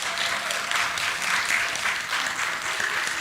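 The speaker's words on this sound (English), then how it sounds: "Can you all just join me in clapping for our panelists" An audience claps for the panelists in a dense, steady wash of applause from many hands that stays loud and even throughout, with no voices over it.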